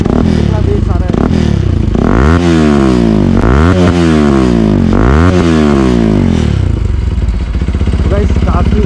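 A Bajaj Pulsar RS 200 motorcycle with an aftermarket exhaust revs loudly up close, deep bassy engine note rising and falling through three throttle blips before settling back to a rumbling idle.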